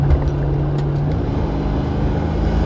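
Twin-turbo V8 Land Rover ute accelerating up a hill, a steady loud engine drone with a low tone that shifts as revs change, continuous and close with no talking.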